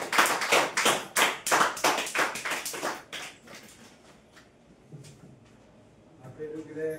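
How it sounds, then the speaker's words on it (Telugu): Audience clapping at a gathering, loud and steady for about three seconds with dense rapid claps, then fading into scattered faint claps and room murmur, with a voice starting up near the end. "Please clap everyone."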